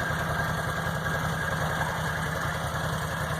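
A 2014 Can-Am Outlander Max XT 800R ATV engine idles steadily up close, with a low, even throb and a faint knocking pulse that holds through the whole stretch with no voices.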